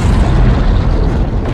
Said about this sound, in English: He just completely tanked that explosion head on, point blank.